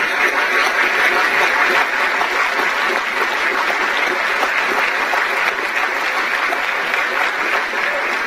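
Audience applause at the closing of a Cuban parliamentary session: steady, dense clapping from a large crowd that fills the whole stretch at an even, sustained level without a break.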